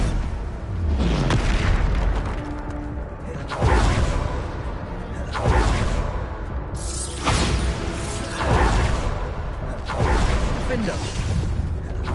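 Bombarda spell blasts in the Hogwarts Legacy video game, a series of roughly six loud booming explosions at steady intervals, each with a deep rumbling tail, with talk between them.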